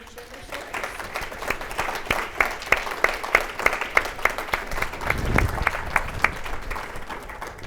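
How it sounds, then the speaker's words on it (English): Applause from a panel audience, sustained clapping with sharp individual claps standing out over steady crowd noise, fairly close and continuous throughout. "let's give a nice round of applause for our families that have shared their"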